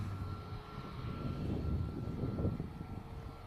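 Qatar Airways Airbus A350 airliner departing Manchester Airport, heard as a faint, distant, steady jet rumble that swells slightly over a few seconds.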